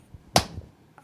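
Two separate sharp hand claps, one near the start and one at the end, each a brief loud smack with quiet room tone between them.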